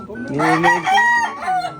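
A gamecock rooster crows loudly and close by, one drawn-out harmonic call with a rising and falling shape, lasting nearly two seconds.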